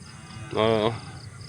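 A single short cow moo sounds out clearly at a livestock market, a brief tonal call over quiet outdoor background noise.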